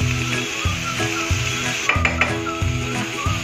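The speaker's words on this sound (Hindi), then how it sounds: "ये सब्जियां हमें 2 मिनट के लिए रोस्टेड करनी है, उससे ज्यादा नहीं" Vegetables roasting in a pan with black pepper and salt for a bread pizza topping, giving a steady, close sizzle broken by scraping stirs and light clacks of a utensil against the pan.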